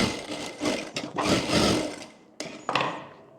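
A sewing machine stitching the top and bottom edges of a V-back blouse panel, a steady whirring motor in loud bursts with short pauses between runs.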